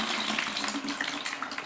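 Water drains from an RO membrane during citric acid cleaning, falling into a tub with a steady, broadband rushing splash that stays close and fairly loud the whole time, with no talk over it.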